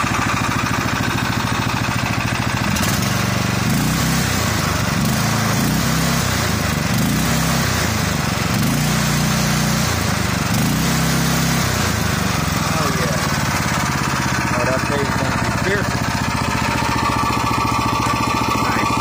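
Homemade go-kart engine running steadily at close range, a loud continuous buzzing roar with rhythmic chugging pulses through the middle section, holding unbroken for the whole stretch.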